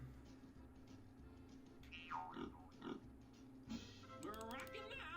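Pig-like grunting and squealing sounds mixed into a kids' show animal sound game, several short oinks over a steady musical background, fairly faint.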